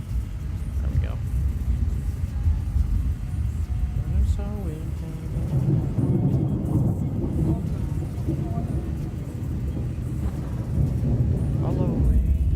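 Rolling thunder in the Roblox storm-chasing game Twisted makes a loud, deep, continuous rumble that swells and churns, with a voice talking faintly over it.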